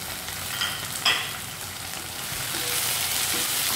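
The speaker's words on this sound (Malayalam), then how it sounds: "ഇനി ഇത് ഒന്ന് വഴന്ന് വരണം. നന്നായിട്ട് മൂത്ത് ഇഞ്ചിയും വെളുത്തുള്ളിയും എല്ലാം കുരുമുളകും എല്ലാം നന്നായിട്ട് മൂത്ത് വരണം." Prawns sautéing with ginger, garlic and pepper paste in coconut oil, a bright continuous sizzle with a couple of spoon scrapes early on, close and alone.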